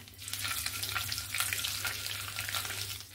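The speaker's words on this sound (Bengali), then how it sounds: "তেজপাতাটাকে আমি নাড়াচাড়া করে নিয়েছি" Bay leaves and five-spice seeds frying in hot oil for a fish-head and green pumpkin dish, giving a dense, steady close-up sizzle and crackle with no talking.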